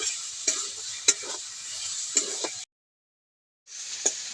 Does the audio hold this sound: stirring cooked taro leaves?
yes